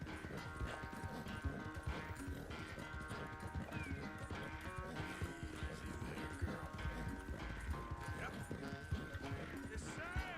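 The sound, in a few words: horse galloping in a video game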